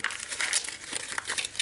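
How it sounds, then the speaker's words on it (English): Paper is crumpled up by hand for card making, a continuous close crinkling and rustling that stays busy and fairly loud for the whole short stretch, with no voices. "I crumple up my paper, and so I'm just going to go ahead and crumple it up"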